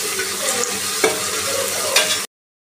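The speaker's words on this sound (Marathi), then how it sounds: "तर बारीक चिरलेला टोमॅटो टाकून याला पण ह्याच्यामध्ये व्यवस्थित असं फ्राय करून घ्यायचं आहे" Chopped tomato with onion and whole spices frying in a pan, a steady loud sizzle with a few stirring scrapes, cutting off abruptly near the end; no one speaks.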